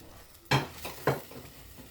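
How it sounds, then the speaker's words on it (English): Peppers are stirred into a sauce with chicken gizzards in a pan, producing two quick spatula scrapes and a brief rise in sizzle against a low simmering background; close and short, with no voices. "So here I'm just stirring in my peppers to combine them with the sauce."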